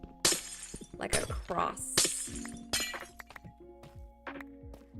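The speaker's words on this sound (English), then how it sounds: "The sound of the glass breaking always makes me kind of cringe because it sounds so realistic" Glass panes break in the block-building game Minecraft, with several sharp shattering crashes and clinks scattered through the span, mixed with soft game clicks and thuds while a person talks quietly.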